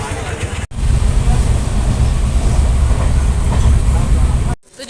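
Train noise at a railway station in Alleppey, Kerala: a loud, steady low rumble with wind buffeting the microphone, running continuously for about four seconds between two brief dropouts.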